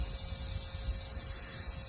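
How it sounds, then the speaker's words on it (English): Cicadas sing in a continuous, even high-pitched buzz that holds steady throughout, with a faint low rumble underneath and no voices. "And the cicadas are singing along with me."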